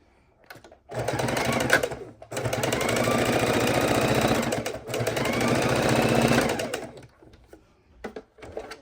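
A sewing machine stitches binding onto a Christmas quilt in two long, steady runs separated by a short pause, its motor buzzing close and loud before it stops and a few faint clicks follow.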